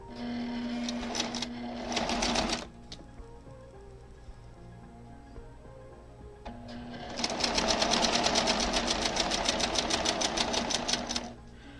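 A sewing machine stitches a quarter-inch seam on a Sawtooth Star quilt block. Two bursts of rapid, even needle clatter stand out, a short one and then a longer run, with a quiet pause between them.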